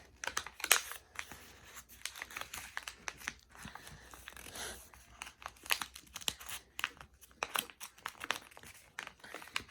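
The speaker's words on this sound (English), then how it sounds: "Fold as far as you can go." Paper being folded and creased into a paper crane, close, busy crinkling and crackling that comes in irregular bursts with short pauses between them.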